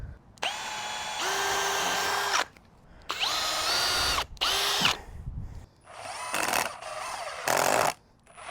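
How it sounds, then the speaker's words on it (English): A power drill drives screws into a wooden frame for a hinged hoop house over a raised garden bed, in four or five separate whining bursts of a second or two each, loud and close, with short pauses between them. "I'm going to toenail some screws in to each end just to make it a little bit more rigid"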